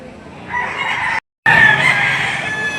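Roosters crow loudly and close at a chicken market, overlapping calls ringing out in a short burst broken by a brief dropout, with faint clucking underneath.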